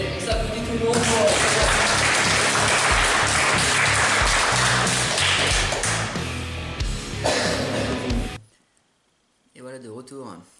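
A group applauds together after a bodybuilding team training camp, dense steady clapping filling about eight seconds before cutting off abruptly, followed by a brief quiet voice.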